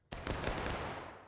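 Musket volley fired by a battalion in the Civil War game War of Rights at Antietam, a sudden loud crash of many shots going off almost together, then a rolling, crackling roar that trails away over about a second.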